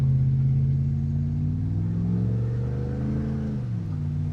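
A cammed GMC truck with a freshly swapped 4L80 transmission drives along, its lumpy engine droning loud and steady, the pitch climbing and dropping as the gearbox shifts up, with no talk over it.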